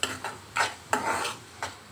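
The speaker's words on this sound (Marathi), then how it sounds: "अशा प्रकारे मस्तपैकी मी असं ढवळून घेतलेलं आहे मसाले सगळे." Spices being stirred in a pan for a chicken liver fry, about five distinct scraping strokes of a spoon against the metal over a faint sizzle, close and clear with no speech.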